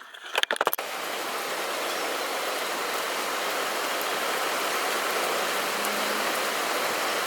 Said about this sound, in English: let me show you how rainy it is